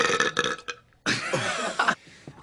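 A single loud, drawn-out burp bursts out after a brief pause, rumbling for nearly a second, with other voices and noise around it before and after.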